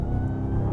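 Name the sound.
RAM TRX pickup truck engine accelerating in sport mode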